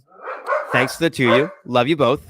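A pet dog barks in the background of a room while someone talks over it. The barks come in short bursts that mix with his voice.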